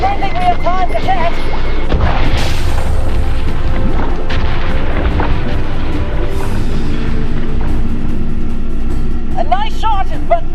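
Underwater charges explode in I Expect You To Die 3, a heavy booming blast early on followed by muffled rumbling and crashing, with a voice speaking over parts of it.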